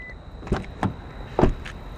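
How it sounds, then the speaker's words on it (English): A 2016 Toyota Camry XLE Hybrid's smart-key door unlocks as the handle is grabbed, giving three short, close mechanical clicks and thunks spaced unevenly over a faint steady electronic tone. "Just grab the door handle to unlock."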